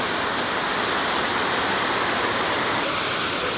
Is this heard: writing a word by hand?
no